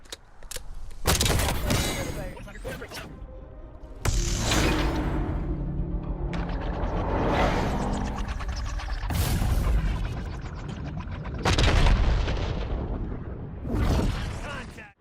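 Gunshots in Black Ops 6's firing range: a series of loud, sharp bursts, some separated by pauses and some packed close together, with an ongoing mechanical clatter between them.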